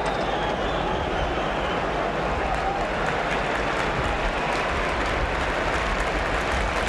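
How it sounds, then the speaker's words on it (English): Crowd at Wembley for the 1968-69 English League Cup final between Arsenal and Swindon Town applauds steadily, a dense, continuous wash of clapping and crowd noise that holds at an even level throughout. "getting a round of applause as he does so"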